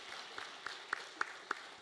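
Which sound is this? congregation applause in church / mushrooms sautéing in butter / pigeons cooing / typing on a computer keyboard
congregation applause in church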